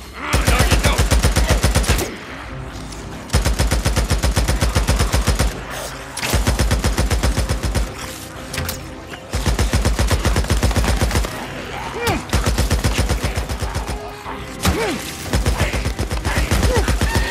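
Sustained automatic gunfire in the video game Days Gone, loud and close, with rapid rhythmic bursts of shots broken by short pauses, continuing for many seconds with little else audible.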